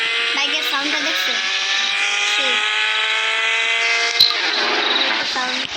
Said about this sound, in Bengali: বাইকের সাউন্ডটা দেখছো?